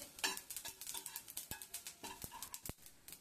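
Whole cloves, black pepper, cinnamon and fennel with sesame seeds dry-roasting and being stirred in a pan, with a steady run of light scraping and rattling taps and a few sharp clicks of seeds and spices against the metal.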